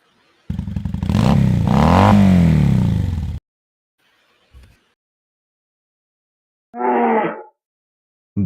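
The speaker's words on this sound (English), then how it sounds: "That is, in fact, the motorcycle." A motorcycle engine revs hard for about three seconds, loud and close, as a sound cue in a party quiz game, followed by a brief thump and a short clattering burst.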